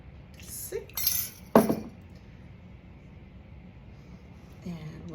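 A spoon knocking and scraping inside a glass jar of sourdough starter, a few bright clinks and a louder rattle in the first two seconds, then quiet stirring with faint background noise.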